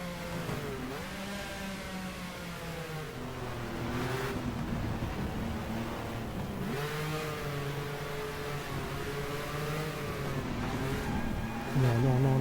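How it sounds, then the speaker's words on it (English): A naturally aspirated V12 Matra race car engine in the GTR2 racing game howls flat out at night, a loud continuous wail rising and dipping through gear changes with no talk over it. "flat out by night, with just the sound of a V12 Matra naturally aspirated engine at the back."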